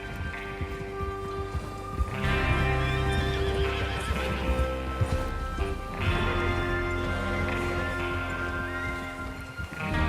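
Horses gallop in the video game Red Dead Redemption 2 with steady, dense hoofbeats and occasional whinnies, layered over a loud, continuous musical background.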